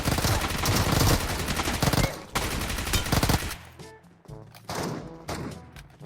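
Shotgun and other gunfire in Metro Royale arrive as a dense, loud volley of rapid shots, then break into sparser, separate blasts with quieter gaps between them. No voices are heard.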